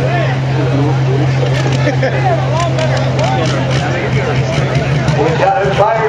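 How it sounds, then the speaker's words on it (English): A diesel pulling truck's engine at a 4x4 pro street truck pull in Mackville, Wisconsin holds a loud, steady droning note, with crowd babble throughout. "It sounds like he had the fire go up as he's trying to bring the RPM up."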